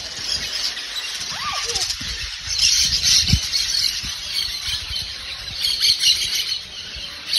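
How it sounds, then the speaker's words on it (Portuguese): Small birds chirp faintly outdoors, short scattered calls set against steady wind or traffic noise. "Tem uns passarinhos no meio"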